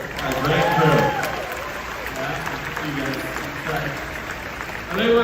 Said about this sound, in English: How about a nice round of applause for the crew?